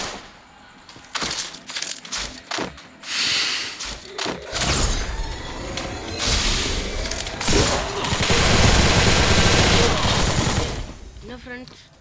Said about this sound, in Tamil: எனிமி இருந்த மாதிரி ஒரு கன்னு சவுண்டு